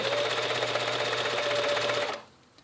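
A sewing machine topstitching fabric runs at a steady, fast, whirring hum with a close mechanical buzz for about two seconds, then abruptly stops into near silence.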